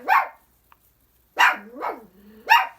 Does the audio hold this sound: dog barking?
yes